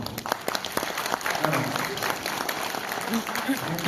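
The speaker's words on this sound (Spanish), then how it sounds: "Fuerte los aplausos" Audience at a Peruvian legal lecture on money laundering applauding a welcome, steady mid-sized crowd clapping with some voices mixed in underneath.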